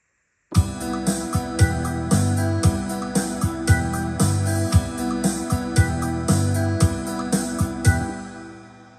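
Yamaha PSR-SX920 keyboard style playback: full accompaniment with steady drum hits, bass and chords in a regular repeating rhythm, loud and continuous.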